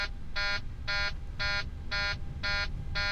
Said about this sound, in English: The beeping will stop after you have successfully taken off